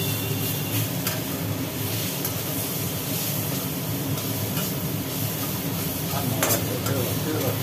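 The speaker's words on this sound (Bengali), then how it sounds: "এদিকে আবার শাক নাড়ানাড়ি চলছে" Jute greens are stirred and tossed in a hot frying pan, giving a steady, close sizzle with scraping and rustling that runs without a break for several seconds, no voices over it.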